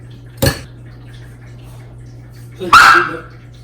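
A dog barks twice, a short bark then a louder, longer one, close by in a quiet room with a steady low hum.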